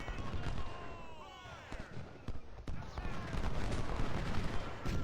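Troops in the Ultimate General: Civil War game at Port Republic firing in scattered musket volleys, sharp cracks and crackling fusillades mixed with battle noise.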